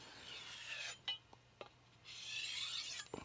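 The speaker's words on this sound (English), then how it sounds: "Right now I just want to strop this knife." A knife blade strops across the finer black side of a 400 grit extra hard vitrified diamond whetstone, faint scraping rasps in a few separate strokes with short quiet gaps between them.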